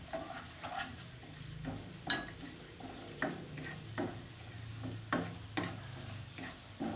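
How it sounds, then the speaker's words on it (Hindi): Cumin seeds and garlic cloves fry in hot oil in a pan, giving a quiet, steady sizzle broken by soft stirring scrapes every second or so, with no one talking. "इसे अच्छी तरह मैं ज़ीरे को भून लूँगी और लहसुन के जवे को।"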